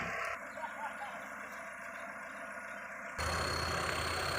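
A tractor engine runs steadily while towing another tractor stuck in a muddy rice field, a continuous loud outdoor rumble that grows louder and harsher near the end, with birds and a rooster faintly in the background.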